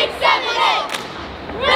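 A crowd at a cheerleading competition cheers and yells in loud, swelling bursts for the Mustang Cheer Renegades, with shouting voices rising and falling over a short stretch.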